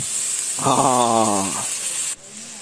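A pan of wild mushroom dish sizzles and bubbles steadily, a close hissing simmer with a brief low tonal whine rising over it midway.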